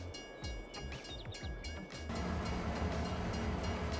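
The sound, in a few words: passenger train in Farming Simulator 22 video game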